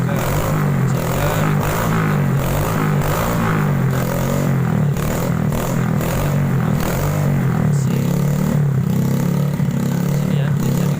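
Yamaha Vega ZR motorcycle engine, with scored cylinder bore and piston, running steadily after a morning start, a continuous low mechanical drone with light clatter and no talk.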